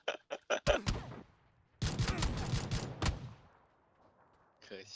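Shotgun fire in the battle-royale game PUBG: a few sharp, loud blasts in quick succession, then a longer, rougher burst of gunfire that fades into quiet. Players talk at the start and end.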